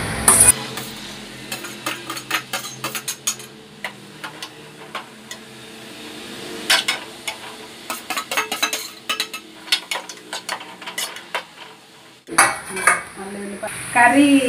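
Onions go into a pan and are stirred with a metal spoon, giving repeated clanks and scrapes of utensil against cookware. The knocks come in irregular bursts, with a soft sizzle and a louder clatter near the end.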